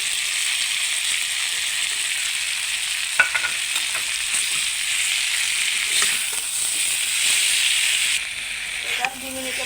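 Ground mustard paste with green and dried red chillies frying in a pan, a continuous hissing sizzle with scraping stirs and occasional clinks of a utensil, no talk.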